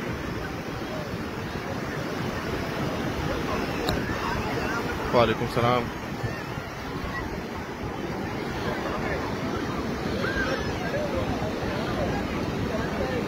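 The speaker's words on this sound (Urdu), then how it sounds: "یہ جو لہریں ہم دیکھ رہے ہیں" Sea waves wash steadily along the Karachi shore in a continuous broad rush mixed with wind buffeting, while people talk over the surf.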